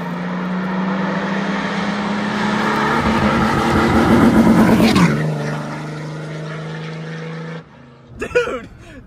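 Cummins diesel truck with a new performance tune makes a loud flyby, the engine roar rising as it approaches, peaking, then dropping away before cutting off, followed by a brief voice.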